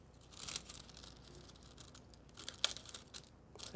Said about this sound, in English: I'm gonna grab those transfer foil and cut it in some pieces.